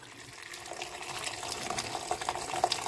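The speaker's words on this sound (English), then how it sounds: "I'm just going to cover it with the remaining water in the kettle." Water from a kettle pours into a pot of scouse, a continuous close splashing and gurgling stream that grows slightly louder and more bubbly toward the end.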